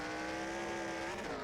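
2007 Cup car in the NR2003 racing game sliding through the grass, a loud steady engine drone with layered tonal whine and rough tire scrubbing, brief and continuous.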